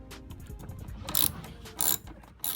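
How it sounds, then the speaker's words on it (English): Ratcheting socket wrench with a 10mm socket loosening a battery terminal nut on a Lincoln MKZ EcoBoost four-cylinder, a fast run of close clicks followed by several sharper bursts. "The next step is to remove the negative and positive terminal with the 10mm socket again."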